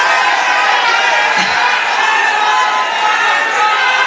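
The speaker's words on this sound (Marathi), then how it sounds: "2 मिनिटं आपण सर्वजण त्यांच्या टाळ्या वाजून स्वागत करा" Large crowd at an election campaign rally in Parli, Beed, a dense continuous roar of clapping and cheering, loud and steady throughout.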